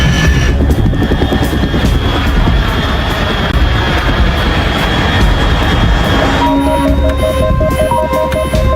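Aircraft flying overhead in the stealth video game Metal Gear Solid 3: Snake Eater, a loud, continuous throbbing engine drone with steady tonal hum, later joined by a short repeating electronic beeping pattern.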